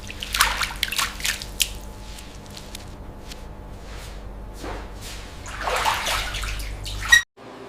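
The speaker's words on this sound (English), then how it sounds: "Careful washing cleans peacock feathers without stripping their natural brilliance." Peacock feathers are washed in water, with sloshing and splashing in uneven bursts that swell strongest near the start and again toward the end before stopping abruptly.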